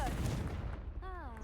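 A Confringo explosive spell goes off in a video game with a short, booming burst of blast noise, and a character's voice follows right after.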